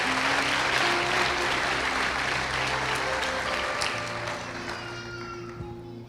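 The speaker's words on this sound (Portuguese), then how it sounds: "Aplauda o Senhor." A church congregation applauds in dense, sustained clapping that tapers off toward the end, with lingering musical tones underneath.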